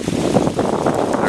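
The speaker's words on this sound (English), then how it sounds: "Pretty windy out here today" Wind buffets the microphone in loud, rough gusts outside a post office in Walnut, California, a steady broadband rush throughout.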